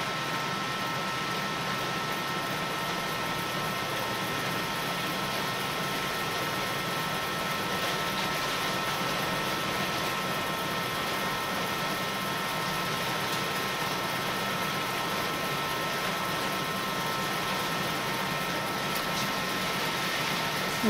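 Three-phase axial flux wind turbine generator spinning at 130 RPM, a steady, fairly quiet whirring hum with constant broadband noise throughout and no talk.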